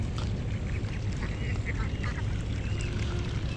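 Ducks quack and honk faintly in a jute field on a farm, with scattered calls over a constant low background rumble.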